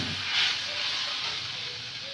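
Water poured into a pan of soybean and potato curry sends up a steady, close hissing sizzle that holds for a couple of seconds.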